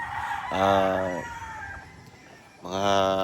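Two loud, close rooster crows ring out on a chicken farm, separated by a pause, with a third crow starting at the end, rich and harmonic.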